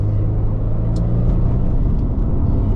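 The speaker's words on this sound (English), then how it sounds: "So we're just cruising around at 5th now, really nice." A rebuilt, modified Subaru WRX STi cruising steadily in fifth gear, heard from inside as a loud, even low engine drone and road rumble with no rise or fall.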